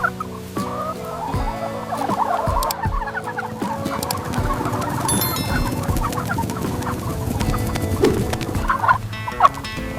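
A large flock of farm turkeys gobbling loudly and continuously, many overlapping calls forming a dense, busy chorus with occasional sharper cries standing out.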